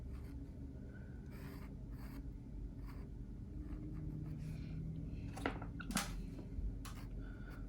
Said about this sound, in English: And then I'll start drawing the petals very, very lightly.